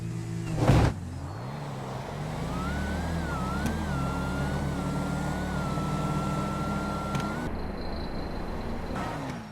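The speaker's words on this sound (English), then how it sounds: "They both leave, and it's a drag race." Cars launching in a drag race in GTA V on a no-prep street outlaws style track, engines droning steadily with a rising whine, a sharp burst near the start and a thin siren-like tone overhead, loud and continuous with no talk.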